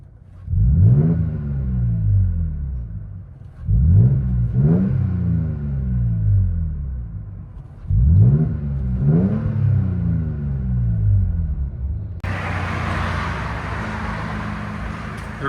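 Inside the cab of a 2023 Toyota Tacoma TRD with a 3.5L V6 and Carven TR-Series exhaust, three rising revs each swell into a deep rumbling roar and fade, followed by a steadier idle drone with brighter road or cabin noise.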